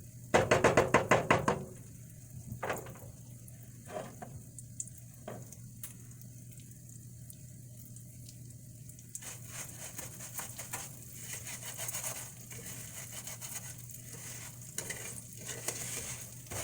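Rice toasts in hot oil over high heat for Guatemalan rice, a steady close sizzle with a loud crackling burst at the start, then scattered knocks and scraping as a utensil stirs the grains, with no talking.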